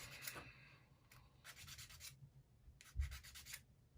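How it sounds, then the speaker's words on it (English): A wooden part from a UGears Aviator mechanical 3D model kit is sanded by hand in several short bursts of close, dry rubbing, separated by brief pauses. "that one needs to be sanded"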